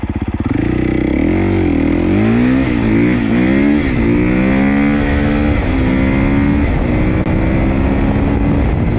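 A Husqvarna FC450 dirt bike with a wide-ratio six-speed gearbox revs hard from a first-gear start, its engine note climbing and shifting loudly and close throughout.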